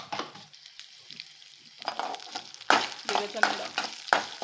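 Coriander seeds dry-roasting in a pan, starting quietly and building into rattling, scraping stirs with brisk crisp ticks as the seeds are moved around.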